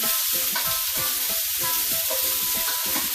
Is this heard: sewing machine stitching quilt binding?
no